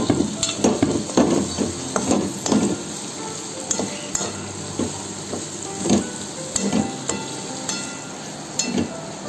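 Carrots and capsicum are stir-fried together in a pan at home, with a steady sizzle broken by frequent loud scraping and clanking strokes of a spatula in an uneven rhythm, close by; no talking.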